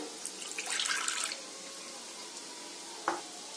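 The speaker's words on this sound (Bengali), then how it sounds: "একটা বাটিতে আমি নিয়ে নেব অল্প করে জল" Water splashes into a bowl in a home kitchen in a short burst of pouring, followed by quiet and a single small drip or clink near the end.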